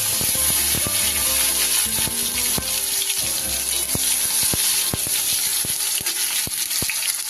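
Chopped tomato hitting hot oil in a pan, left from frying lentil badi for a tangra fish curry, gives a steady, loud crackling sizzle with sharp pops scattered throughout and no talking.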